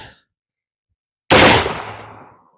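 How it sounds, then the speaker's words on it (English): A MacPherson NH-15 rifle fires a burst at outdoor targets, a sudden loud blast that rolls into a decaying echo after a short silence. "So let's take a nice little burst shot at those."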